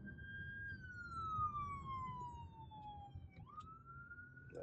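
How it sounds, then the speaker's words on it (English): An ambulance siren heard from inside a VW ID.4 while driving, a steady wailing tone sliding slowly down in pitch then rising again, moderately distant over the car's low road rumble. "Ambulance. Ambulance and bikers."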